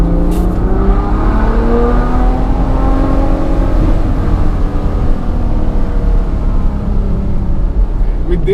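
A Ferrari GTC4 Lusso's V12 engine and exhaust accelerate hard during a test drive, the engine note rising loudly and steadily through the revs and staying close and continuous throughout.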